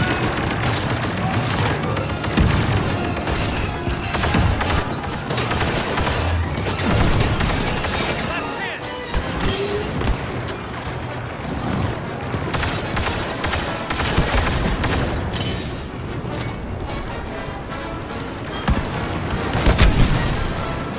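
Blaster gunfire and explosions crackle continuously in a Star Wars video game battle, dense bursts and booms loud throughout, with voices calling out amid the shooting.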